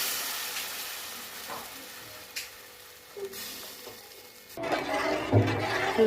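Ragi flour paste stirred into fried beetroot and carrot in a pan for soup, giving a steady close sizzle and hiss with a few soft scrapes, turning louder and thicker toward the end.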